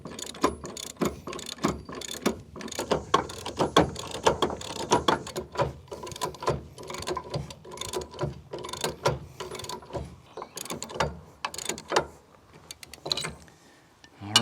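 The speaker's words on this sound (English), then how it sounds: "Now I'm just going to snug up these bolts on the side." A ratchet wrench snugs up the side bolts on a Husky Centerline TS weight distribution hitch, rapid clicking strokes in uneven bursts close to the microphone, with metallic clinks between.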